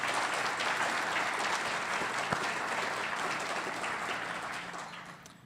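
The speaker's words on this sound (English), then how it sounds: "Please join me in a warm round of applause for all of them." Sustained applause from an audience at a City Club civic forum, steady and dense for several seconds before gradually thinning out near the end.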